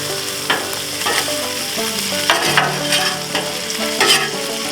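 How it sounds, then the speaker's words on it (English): Bacon sizzling loudly on a griddle for a breakfast burger, a dense crackling hiss broken by several scraping clatters as strips are pushed to one side; no talking. "the bacon's about halfway to where I want it, so I'm going to go ahead and move them all over to this one side here"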